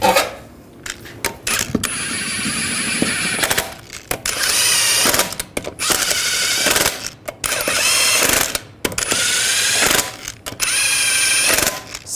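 Lug nuts being run onto a 2007-2013 Chevrolet Silverado 1500 wheel with a power tool, loud bursts of whirring ratchet-like mechanical rattling separated by short pauses, close by, with no talk.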